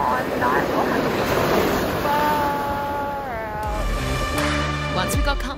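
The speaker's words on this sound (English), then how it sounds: "We endure up to 35 knot gusts and 5 metre seas" Strong wind gusts and rough seas of about five metres hit a sailing boat offshore, giving a continuous roar of surf and wind buffeting with tonal whistles and creaks rising toward the end.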